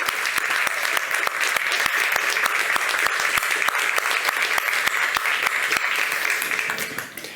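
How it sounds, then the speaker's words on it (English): A conference audience claps warmly in a hall, a dense, steady round of applause that holds for several seconds before starting to thin out. "I think she deserves a big round of applause."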